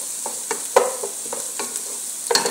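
Meat sautés in its own rendered butter in a pan, with a soft sizzle behind several sharp spatula scrapes and stirs at irregular intervals, close and clear, with no voices.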